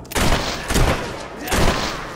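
Gunfire in the video game Fable 3, several loud bursts of shots in quick succession during a fight, each blast broad and dense, with brief gaps between volleys.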